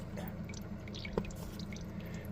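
Water drips and trickles steadily out of laundry that has just been spun, soft droplets falling over a low constant background hum.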